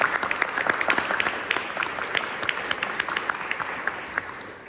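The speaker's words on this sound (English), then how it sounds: "she deserves an applause" Applause from an audience at a Brookline Peace Coalition community event, a dense patter of many hands clapping steadily at moderate level, tapering slightly toward the end.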